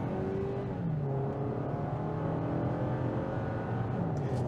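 A 2023 Toyota Camry SE Night Shade Edition engine pulls away from a stop and accelerates steadily to about 50 mph, its rising drone climbing in pitch through the gears, close and continuous with no talk.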